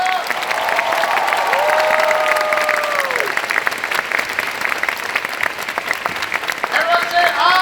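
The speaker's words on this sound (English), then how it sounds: "Give yourself a round of applause" Audience applause at a live Nu Skin event, dense sustained clapping from a large crowd with a few cheers, while a voice carries over it through a hall sound system.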